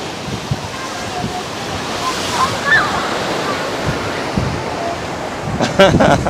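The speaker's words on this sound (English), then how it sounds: "Kids are loving these waves today." Ocean surf rolls onto the beach at Waikiki, Hawaii, a steady loud wash of waves with wind buffeting the microphone and a brief burst of noise near the end.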